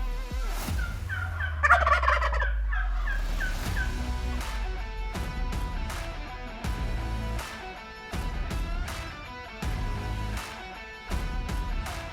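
Wild turkeys gobble in spring woods during a bow hunt, a loud rattling gobble early on followed by softer clucks and calls from birds moving close around the hunters.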